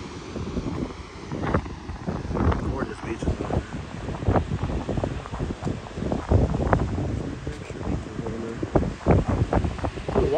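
Gusty wind on a New Hampshire Atlantic beach buffets the microphone in continuous rough rumbles and bursts, with a faint wash of surf and rustling underneath.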